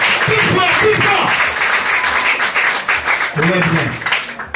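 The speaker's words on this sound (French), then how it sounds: "Applaudissez chaudement. Applaudissez, applaudissez plus fort, plus fort, plus fort, plus fort." A church congregation applauds warmly, with dense continuous clapping throughout and voices shouting over it at times.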